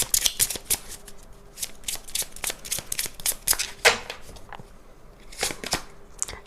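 Tarot cards being shuffled for a reading give a series of quick riffling flutters and snaps, close and crisp, in bursts with short pauses between them.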